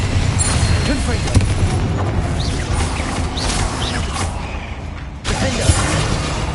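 An explosive Confringo spell blasts during combat in Hogwarts Legacy, in a haunted hall: loud, close booms and crackling bursts with a sharp hit near the middle and another near the end, while a voice shouts spell names.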